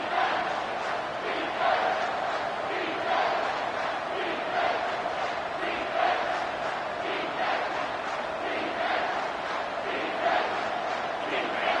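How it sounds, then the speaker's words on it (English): A college football stadium crowd at an Alabama–Maryland game roars in rising and falling surges, loud and sustained throughout, a dense wall of cheering voices that swells repeatedly with no pause. "with this place rocking, the crowd forces a false start"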